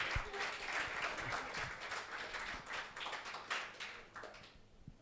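Church congregation applauding for their apostle, a quiet wash of many hands clapping together that holds steady and then tapers off at the end.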